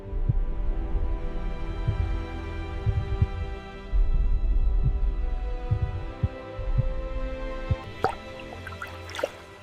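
Slow, soft low thumps like a heartbeat pulse steadily beneath a watery drone, with a few bright drip-like plinks toward the end.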